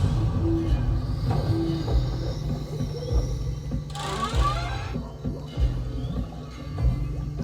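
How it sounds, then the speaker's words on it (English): A Rivian's Halloween exterior thunderclouds sound effect plays as a deep, continuous rumble, with a brighter crackling burst about midway through before it settles back into the steady low roll. "and you have thunderclouds."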